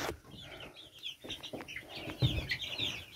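Baby chicks, some with a crossbeak defect, peep in a shed behind a board blocking the door, with high chirps repeating steadily and close by over low rustling and handling noise.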